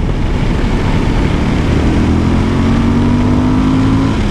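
A Suzuki V-Strom 1050 motorcycle accelerates hard in third gear from around 4,000 rpm, its engine droning loud and steady with a rising tone under heavy wind rush.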